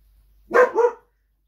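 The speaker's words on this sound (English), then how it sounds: "the dog barking, postman was here" A dog gives two quick, loud barks close by at the postman, then goes quiet.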